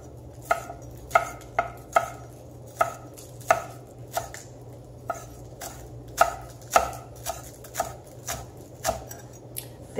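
Knife chopping green onion tops on a cutting board, a steady run of crisp, close taps at an even rhythm, each stroke sharp and distinct over a faint background hum.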